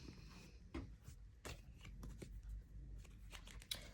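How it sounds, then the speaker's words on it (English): A tarot deck is given a quick shuffle, soft close riffles and card slaps in short irregular bursts over a quiet background. "I'm going to do a quick little shuffle."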